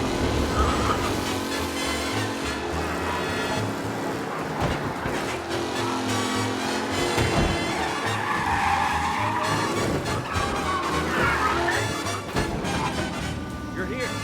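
A car drifts around a corner in the video game Mafia, tires skidding and squealing over engine noise, mixed with jazz music and other game sound at a loud, steady level.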